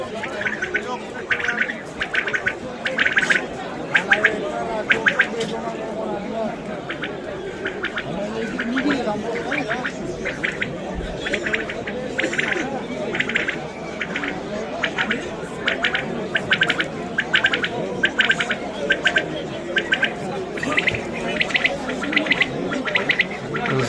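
Caged songbirds at an outdoor bird market in Samarkand chirp in rapid, repeated bursts throughout, steady and fairly close, mixed with ongoing chatter from nearby people and crowd noise.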